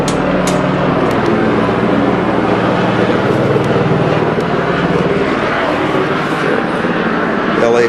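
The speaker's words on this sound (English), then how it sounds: "Helicopters." An LAPD helicopter drones loudly overhead with a steady rotor and engine roar that fills the whole stretch, near and continuous.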